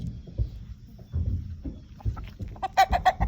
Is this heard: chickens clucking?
yes